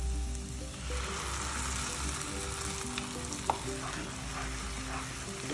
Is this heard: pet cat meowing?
no